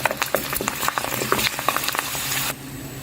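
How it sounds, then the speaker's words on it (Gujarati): Thin sabudana-potato papad frying in hot oil gives a dense, steady crackling sizzle with rapid pops, close and loud, cutting off abruptly near the end. "પાતળો પાપડ જે બનાવ્યો છે એ તળી લઈએ છીએ"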